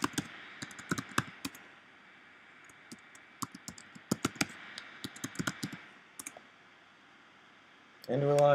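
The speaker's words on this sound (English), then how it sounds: "just re-enter the password they gave you, press enter, and enter your new password" Someone types a password on a computer keyboard, giving bursts of quick, crisp key clicks close up with short pauses between runs. Near the end a voice starts talking.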